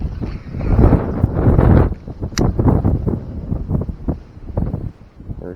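Strong wind buffets the microphone on a lakeshore while bank fishing in June, a loud rumbling gusty roar that swells and eases in waves, with faint rustling underneath.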